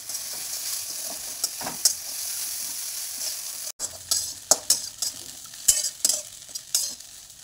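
Poha with potatoes and chopped coriander is stirred in a hot pan, a soft sizzle under repeated sharp spoon scrapes and knocks, close-up with no talking.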